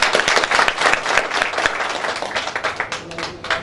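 Audience applause for poets at an Eid Milan party, a crowd clapping vigorously and continuously at close range, fading slightly toward the end.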